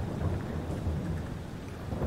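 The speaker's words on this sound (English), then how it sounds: "It's still raining, though." Steady rain with a low rumbling wash falls continuously in the Farming Simulator 22 video game, a dense even downpour with no talking.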